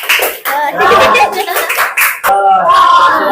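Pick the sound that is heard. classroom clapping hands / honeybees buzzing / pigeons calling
classroom clapping hands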